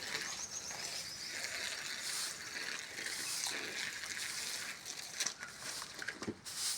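Water gushes from a garden hose onto plants in a yard, a steady broadband hiss running throughout with faint clicks and chirps near the end.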